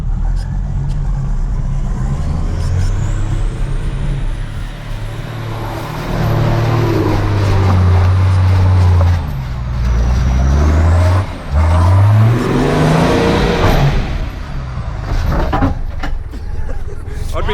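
A car engine revving hard while climbing a steep obstacle, loud and close, with rising and falling engine pitch as it strains upward, and voices talking over it.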